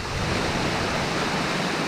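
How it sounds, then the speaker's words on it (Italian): Waterfall at the Kot falls, swollen and running high, a steady broadband roar of falling water held at constant loudness throughout, with no voices. "la cascata è un po' più cascata e quella cascata là è tanto cascata oggi, vero Eva?"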